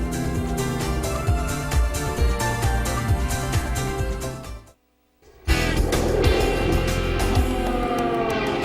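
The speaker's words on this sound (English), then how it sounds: "Some 30 showroom stock B cars are now out on their final pace and parade lap" Around 30 Showroom Stock B race cars on their final pace and parade lap at the SCCA Runoffs, a loud, sustained blend of engine drone and passing cars, briefly dropping to silence before resuming just as loud.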